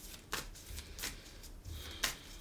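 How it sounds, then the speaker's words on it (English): A tarot deck being shuffled by hand, with quiet crisp riffling bursts in several separate strokes and soft rustling between them, close and with no speech. "these cards are so beautiful to shuffle"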